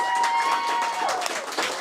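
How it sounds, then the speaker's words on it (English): A steady wash of applause fills the room for a Lay's chips challenge audience, continuous and fairly loud throughout, with a faint tone running underneath. "let's give them a big round of applause"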